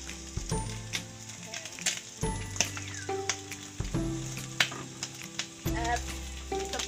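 Oil sizzles and hisses steadily in a pan as softened ingredients are sautéed and stirred, with repeated scraping and clinking of a utensil against the pan close up.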